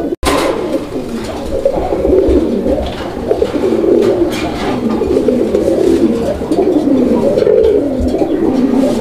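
Raj-golla pigeons cooing at a Bangladeshi pigeon farm, a loud, continuous rolling coo from several birds close by, with a sharp knock at the very start.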